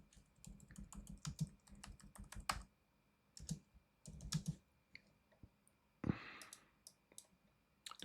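Quick bursts of typing on a computer keyboard while entering C++ code, with clusters of sharp, close key clicks separated by short pauses and no talking.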